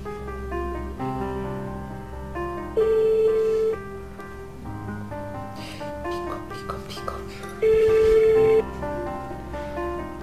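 A phone rings in two sustained electronic bursts, a few seconds apart, cutting in loudly over continuous background music in a Nollywood-style drama scene.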